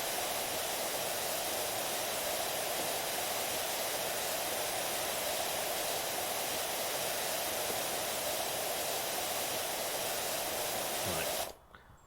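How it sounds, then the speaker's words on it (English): A pressure washer in PowerWash Simulator blasts a continuous, loud, broadband hiss of spraying water that runs without pause for about eleven seconds, then cuts off abruptly. "the white noise is getting a little too much now"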